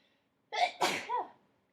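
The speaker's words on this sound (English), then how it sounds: "I have to sneeze." A single person sneezes up close, a short gasping intake followed by a sharp burst and a brief trailing exhale, in an otherwise quiet room.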